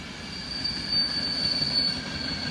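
A train on the Blansko–Brno railway line rolls past nearby, steady rumbling wheels under a thin, sustained high squeal of wheels on rails, cutting off sharply at the end.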